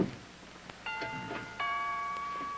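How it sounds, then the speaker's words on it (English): A doorbell chimes twice indoors, each tone ringing out and lingering, the second strike slightly louder, against a quiet room background. "would you mind answering the doorbell"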